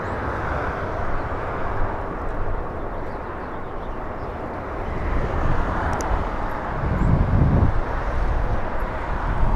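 A United airliner bound for San Francisco rolls at LAX, its jet engine roar a steady broadband rumble with wind buffeting the microphone, swelling louder toward the end.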